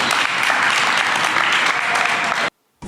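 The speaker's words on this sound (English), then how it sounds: "Everyone's clapping for her because she has a picture on her phone" Dense applause from a live debate audience, loud and steady for about two and a half seconds, then cutting off abruptly into a brief silence before a short burst resumes.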